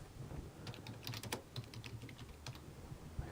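Rapid, irregular clacking of computer keyboard keys, close and fairly quiet, with steady bursts of keystrokes and no voices.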